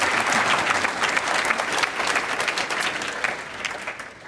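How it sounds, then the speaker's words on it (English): A live audience gives sustained applause, dense and even clapping throughout, slightly fading at the end. "Let's give a round of applause to Yvon Chouinard for getting through that"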